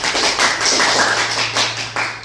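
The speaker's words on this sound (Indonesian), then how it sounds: "Tepuk tangan dulu untuk kelompok" Classroom applause for a student discussion group, a dense patter of hand claps filling the whole moment at close range, steady and fairly loud.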